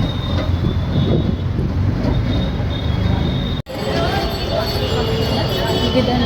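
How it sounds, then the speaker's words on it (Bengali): A train pulls into Bidhannagar station with a steady, loud rumble and clatter of rail cars. The noise runs throughout, briefly cut off once, and voices are heard over it. "ট্রেন ধরবো অলরেডি ঢুকে গেছে"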